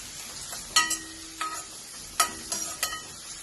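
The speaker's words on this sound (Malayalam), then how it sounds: "സവാള നന്നായി പൊരിഞ്ഞ് വന്നിട്ടുണ്ട്" Onions frying in a pan for rajma, a soft sizzle broken by several sharp scraping stir strokes, close and fairly quiet, with no voices.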